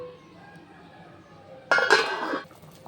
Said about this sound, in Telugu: మూత పెట్టుకొని ఉడికించుకుందాం